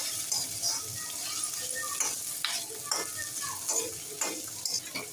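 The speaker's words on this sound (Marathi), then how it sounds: "थोडं टोमॅटो घालूया, तो सुद्धा छान परतून घेऊया।" Tomatoes sautéing in a pan for chilli paneer, a steady sizzle broken by repeated scrapes and clatters of a stirring spoon against the pan, close and moderately loud.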